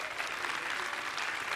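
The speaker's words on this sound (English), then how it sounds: "Another round of applause, please, from Theatre." A short stretch of steady, even applause from a theatre awards crowd, moderately loud and continuous with no voices over it.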